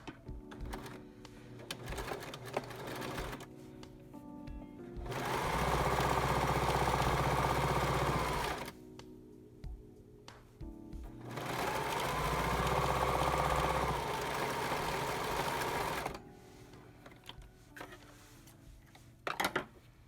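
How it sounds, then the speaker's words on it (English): A sewing machine stitches the bottom seam of a fitted fabric face mask, running in two sustained bursts of steady whirring separated by a pause, with quieter handling noises before, between and after. "So now I'm going to sew the bottom"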